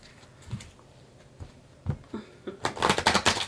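A deck of cards being shuffled up close, a few soft riffles building to a rapid flurry of crisp snaps at the end.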